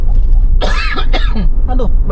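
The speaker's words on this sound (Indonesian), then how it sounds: "Aduh batuk." Two or three sharp, close coughs in quick succession over the low rumble of a car moving along a toll road.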